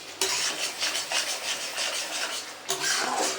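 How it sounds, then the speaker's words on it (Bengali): A spoon scrapes and stirs cauliflower rezala curry with yogurt in hot oil in a pan, with steady rhythmic scraping over a soft sizzle and no talking. "নাড়াতে থাকছি"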